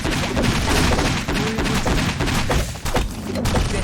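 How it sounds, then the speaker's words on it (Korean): Gunfire in the video game Black Survival: a dense, continuous barrage of sharp shots and heavy thuds that runs loud and close through the whole stretch, with no clear pause between bursts. "종부가 저격해"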